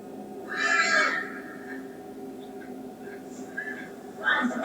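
A horse whinnies loudly for about a second near the start, then fainter animal calls follow over steady background noise and low voices in a dramatic scene.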